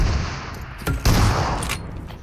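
A shotgun fires in PUBG Mobile: a couple of sharp, heavy blasts close together, loud and near, over a constant rumbling game background.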